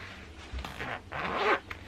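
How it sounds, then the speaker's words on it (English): A zipper on a handmade wallet or bag is drawn open in a few quick, scratchy pulls, close and moderately loud, with no talking. "Then I have a zip in the back"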